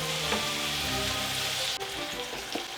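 Garlic frying in a pan over high heat, with a soft, steady sizzle and crackle, fairly quiet, and a faint clink or two of a utensil against the pan.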